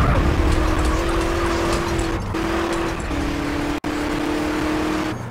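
Car driving in GTA San Andreas, a steady, loud engine drone with shifting pitch and hints of tire squeal, running continuously with one brief cut.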